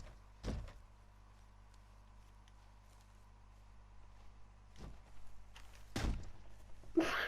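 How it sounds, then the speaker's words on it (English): A door is kicked in Red Dead Redemption 2, with several heavy thuds and bangs spread across the clip, the last ones louder and clattering, over a low steady game-ambience hum. "This is booting a door."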